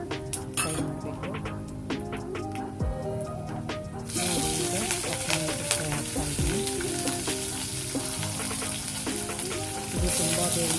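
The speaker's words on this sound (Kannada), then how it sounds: "ಹಸಿಮೆಣಸಿನಕಾಯಿ, ಈರುಳ್ಳಿ, ನಂತರ ಟೊಮಾಟೊ ಹಾಕಿ ಫ್ರೈ ಮಾಡಬೇಕು" Peanuts, green chillies, onion and tomato frying in a pan for avalakki, with steady loud sizzling, a jump in intensity about four seconds in as more goes into the hot oil, and occasional clinks of a stirring spoon.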